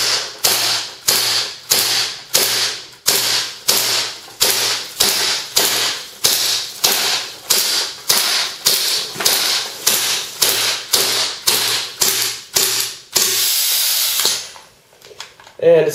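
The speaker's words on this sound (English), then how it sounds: "let's go ahead and empty the mag. This holds 50 rounds in the magazine." A propane-gas-powered Luger pistol with a 50-round drum magazine fires about two dozen sharp, evenly spaced shots at a steady rapid rhythm, close and loud, ending in a sustained gas hiss.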